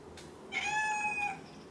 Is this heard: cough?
no